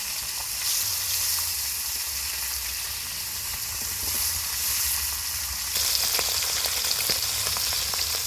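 Continuous close sizzling of mukundi fish frying in oil, crackling and popping steadily, growing a little sharper toward the end, with no talking.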